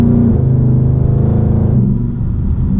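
A 750-horsepower Mustang engine rumbles loud and deep as it revs, a steady throaty drone heard from inside the cabin with the windows up, easing slightly toward the end.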